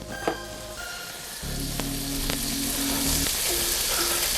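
Butter melting in a hot pan with leftover oil while making a stroganoff sauce: a light clink, then a steady sizzle swells and holds, close and fairly loud, with a few brief tonal tones in the background and no talking.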